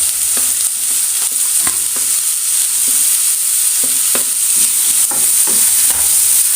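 Chopped green chillies, onions and garlic sauté and sizzle in a hot pan, a steady bright hiss broken by frequent clinks and scrapes of a spoon stirring, close and fairly loud with no talking.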